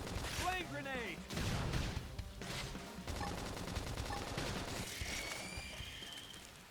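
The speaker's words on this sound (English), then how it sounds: "Flame grenade!" Flame grenade explosions and gunfire in the video game Xenoblade Chronicles X, a burst of bangs and crackling battle effects with rising whooshing tones, under in-game character voices.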